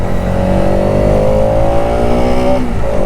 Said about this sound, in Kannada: ನನ್ನ ಗಾಡಿ ಒಂದು RS 200